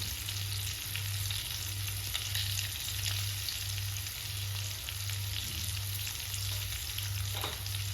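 Turmeric powder and salt fry in a pan with a constant close sizzle, occasional scraping stirs and a steady low pulsing hum running underneath, with no talking.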